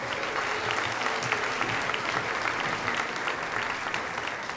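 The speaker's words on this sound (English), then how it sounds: "A nice round of applause," Steady audience applause at a 2017 sports awards show, an even wash of many clapping hands in a large venue, sustained and moderately distant without speech.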